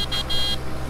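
A steady, buzzy car horn blares in a French driving video game set on a rural Limousin map, holding with slight breaks over a continuous low engine drone.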